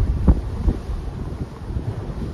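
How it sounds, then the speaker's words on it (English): Strong wind during a whiteout snow squall with gusts over 50 mph buffets the microphone in low, rumbling bursts, loudest and closest in a sharp gust near the start and then a steady roar. "Hello, wind."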